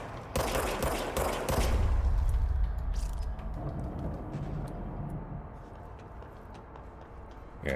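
Rapid bursts of video-game gunfire crackle close and loud, then settle into a denser, steadier spray of shots that gradually thins out.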